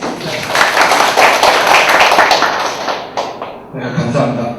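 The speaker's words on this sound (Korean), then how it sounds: "유 박사님을 큰 박수로 또 환영해 주십니다." An audience at a Korean international development academic conference claps to welcome a speaker, with dense, steady applause lasting several seconds before tapering off near the end.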